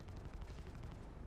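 Video game guns fire in a rapid, dense rattle during a bunker fight, a short continuous burst of faint, muffled shots.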